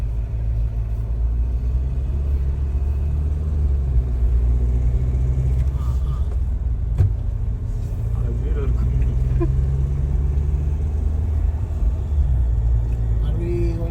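Inside a Toyota Fortuner SUV being driven, a steady low road rumble and engine hum fill the cabin, with a few faint clicks and knocks along the way.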